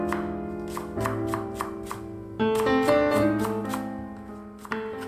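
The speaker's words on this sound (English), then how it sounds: "Start by finely slicing 2 large spring onions." A knife finely slicing two large spring onions on a cutting board for Japanese fried chicken, giving a run of quick, evenly spaced chops over steady background music.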